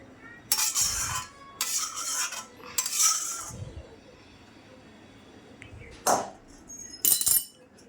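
Bata fish in a mustard-poppy jhal lifted one by one from a kadai onto a plate, heard as a few separate scraping, clinking bursts of a spatula against metal with quiet gaps between them.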